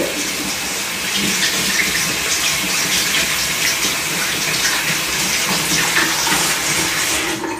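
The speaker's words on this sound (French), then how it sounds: "je vais aller rincer un peu les viandes" Chicken tenderloins rinsed under a running kitchen tap, a steady, close, loud rush of water with faint splashing as the meat is turned, continuing without pause and with no voice over it.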